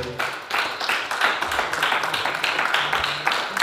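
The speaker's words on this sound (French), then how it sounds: "Applaudissez le Seigneur" A church congregation claps in praise during a French-language service, a fairly even, rhythmic patter of many hands at moderate distance, with no talking over it.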